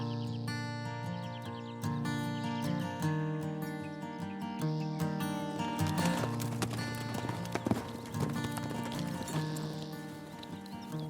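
A horse clip-clops in a steady rhythm on a cowboy's Alabama ranch, its hooves mixed with prominent tonal music that runs throughout at a fairly even level.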